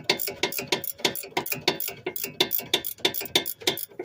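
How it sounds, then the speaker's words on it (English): A ratchet wrench clicks rapidly while turning a nut on the back of a Toyota Corolla front strut, dense rhythmic ratcheting bursts repeating close up with no talking. "I'm just using the ratchet wrench, as you can see,"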